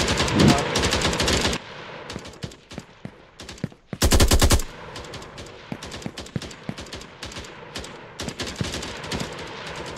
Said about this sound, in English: Found the guy just shooting from the air.